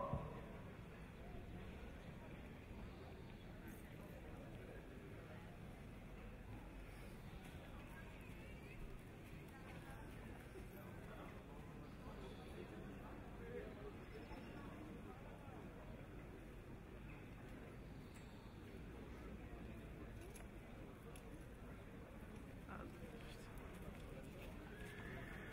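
At a horse sale show, a horse trots on a surface with a continuous, fairly faint patter of hoofbeats, heard from a distance over steady background ambience, with no clear neigh standing out.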